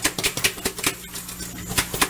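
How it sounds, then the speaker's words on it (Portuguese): Cooked chicken being shaken inside a closed pressure cooker pot, giving quick rhythmic rattling thumps, about a dozen bursts in a steady back-and-forth pattern, close and alone. "Sacode bem a panela."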